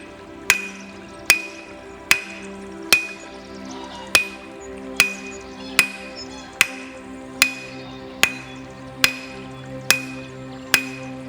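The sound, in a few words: hammering tent pegs with a 4-pound hammer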